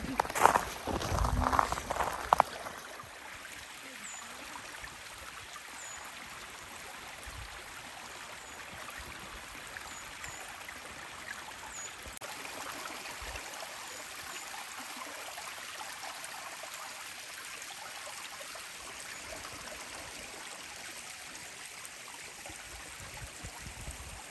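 A small waterfall stream near a rented cabin runs with a steady, soft rushing wash throughout, with a few brief bumps and movements near the start.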